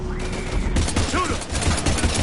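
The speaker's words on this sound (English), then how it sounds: "We're taking heavy fire." Heavy gunfire in the Mass Effect 3 video game: dense, continuous bursts of shots and impacts crackle loudly throughout, with a brief pitched whine, and no pause in the barrage.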